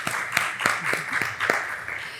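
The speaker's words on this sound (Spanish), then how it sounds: "Vamos a darle un aplauso a la doctora Leticia." Audience applause welcoming a doctor onto a talk show, a short burst of scattered, uneven claps that swells briefly and then thins out.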